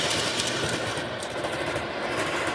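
A small Conrail model train set rattles steadily along its track with a continuous clickety hum, close and unbroken.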